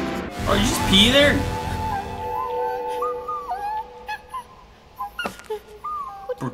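Dog whimpering in the horror video game Happy Game: high, wavering whines and yelps come early over loud, rumbling game sounds, then fade to quieter whimpers under fainter ambient noise, with scattered sharp clicks near the end.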